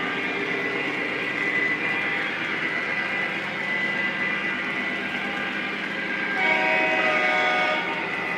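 A Lionel PRR Sharknose model train runs under DCS command control, a steady close rolling rumble with bright tonal horn notes sounding through, a second horn blast rising near the end.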